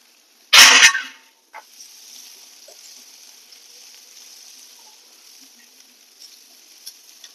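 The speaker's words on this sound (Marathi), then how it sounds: "आता ह्यामध्ये टाकू आपण कांदा।" Onion hits hot oil in a pan for a dry potato dish, giving a sharp burst of sizzling that settles into a steady, softer frying hiss.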